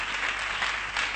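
An audience claps in a brief, dense burst of applause, steady and fairly close with a slight swell near the end.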